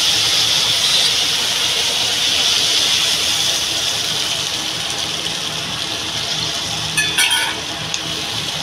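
Water pours in a steady, loud gush into a hot pan of sautéed fish and potato curry, hissing continuously for several seconds before tapering off near the end.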